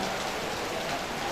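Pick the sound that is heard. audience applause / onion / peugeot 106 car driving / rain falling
rain falling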